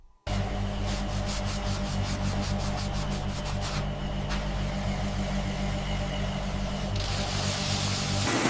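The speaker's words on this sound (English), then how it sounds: "Workers use cloths and machines to create a subtle shine." Horse leather shoes being polished in a factory with cloths and machines, a steady continuous rubbing and buffing drone with a machine hum underneath, loud and close throughout with no voices.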